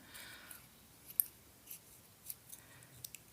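Scissors snip through a paper cut-out in a series of small, sharp, irregular clicks, quiet and close in an otherwise still room.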